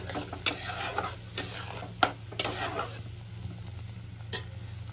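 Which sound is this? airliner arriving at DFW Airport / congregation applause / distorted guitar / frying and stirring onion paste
frying and stirring onion paste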